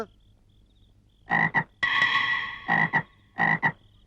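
A frog croaks in several loud, close, nasal bursts, paired short calls alternating with one longer drawn-out croak, set against quiet background hum.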